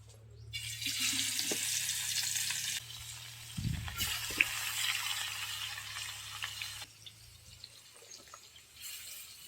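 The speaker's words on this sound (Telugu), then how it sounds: "ఇదిగో చేపలు అయితే ఫ్రై అయిపోయింది" Fish pieces fry in a pan, giving a soft hissing sizzle that swells and fades in stretches, with a few faint clinks and handling noises from the kitchen in between.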